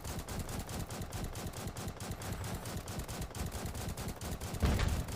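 Rapid gunfire in a Lego Titan shooter video game, a dense steady stream of shots running throughout with a heavier burst near the end, no talking.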